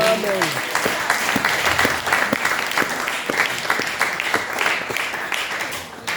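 A church congregation applauding and cheering in acclaim, a dense, sustained wave of clapping mixed with shouts and voices, fairly close and loud throughout.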